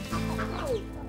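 A mother hen clucks softly to her chick in a brief, close burst of a few low clucks, heard alone without talk.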